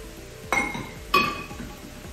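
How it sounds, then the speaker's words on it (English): Chopped pecans tipped into a pan of cornbread stuffing land with two sharp clinks and rattles about half a second apart, fairly close and clear over a quiet background. "now lastly, we're going in with some chopped pecans"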